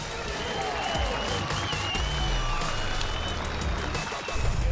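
A large crowd at a World Series Sprint Car event applauds and cheers the champion. The noise is a broad, sustained roar from a distance, with engine rumble underneath and a commentator speaking over it.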